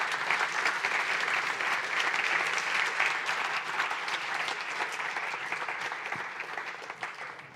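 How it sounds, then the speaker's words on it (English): Steady applause fills a tech meetup evening event, a dense, even crowd of clapping hands that carries on for several seconds and slowly thins toward the end, with no talking over it. "applause"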